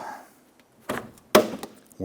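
A door panel on a 1997-2006 Jeep Wrangler is worked off the door shell, giving a few separate sharp plastic knocks and pops with quiet pauses between them.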